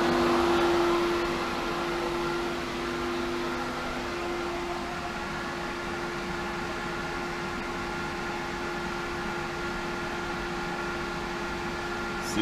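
A Hayward Super Pump VS variable-speed pool pump runs at 3000 RPM on 1.5-inch plumbing, giving off a steady, close mechanical hum with a faint tonal whine that holds even and unbroken throughout.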